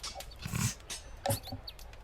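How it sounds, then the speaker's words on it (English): A dog that is freaking out gives a few short, muffled barks and whimpering growls, close by and moderately loud, with brief pauses between bursts. "my dog's freaking out"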